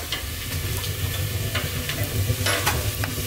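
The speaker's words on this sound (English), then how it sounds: "Listen to that sizzle." Food sizzles in a hot pan on a wood stove in a winter wall tent, a continuous crackling hiss with occasional sharper pops, close by.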